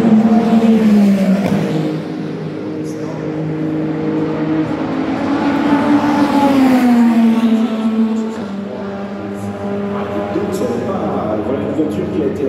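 Race cars at the 24 Hours of Le Mans during free practice, a loud continuous engine drone rising and falling as cars pass and accelerate, with a commentator talking over it.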